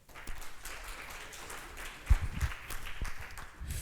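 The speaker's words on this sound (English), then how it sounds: "A big round of applause." Light, fairly faint applause from a conference audience greeting a speaker as he is introduced, with scattered claps rising and falling over a few seconds.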